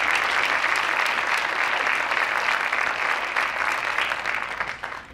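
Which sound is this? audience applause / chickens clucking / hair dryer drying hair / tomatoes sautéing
audience applause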